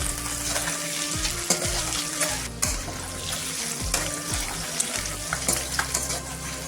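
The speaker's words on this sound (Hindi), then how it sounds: "प्याज लहसुन का साथ अंडा को भी मैं फ्राई कर लेंगे" Eggs sizzle and crackle in hot oil with onion and garlic, a constant frying hiss broken by occasional stirring scrapes from a utensil.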